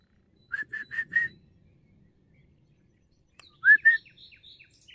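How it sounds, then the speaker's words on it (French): Outdoor songbirds give two bursts of clear whistled chirps, a quick run of four repeated notes and then a livelier warbling phrase, crisp and fairly close against near silence. "Il y a beaucoup d'oiseaux cette année. Ça n'arrête pas, c'est des chants"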